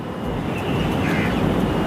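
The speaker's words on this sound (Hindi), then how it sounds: "ऊपर ना हेलीकॉप्टर उड़ रहा, गोल गोल।" A black helicopter circling overhead produces a steady, moderately loud droning rumble that swells slightly as it continues, heard outdoors with no talking.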